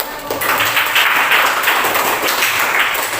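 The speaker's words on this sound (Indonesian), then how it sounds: "Beri aplaus." Sustained classroom applause from a group of students clapping together for a winning student group, loud and dense throughout with no talk over it.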